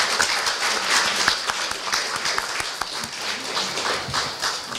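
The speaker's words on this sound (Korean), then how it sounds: "여러분 박수로 환영해 주십시오." Audience applause at a Korea University event as an MBC announcer is welcomed onstage, a dense steady clapping with some sharper individual claps, fairly close and filling the whole stretch.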